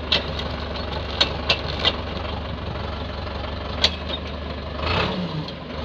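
A tractor engine runs steadily at idle with a low continuous rumble, punctuated by a few sharp clanks and knocks, then a brief surge near the end.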